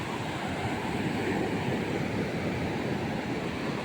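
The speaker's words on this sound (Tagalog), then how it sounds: "Malaki yung alon, wag ka maglaro dyan." Big ocean waves rolling onto a beach shore, heard as a steady, loud broadband wash of surf with some wind buffeting, continuous for the whole stretch with no voices.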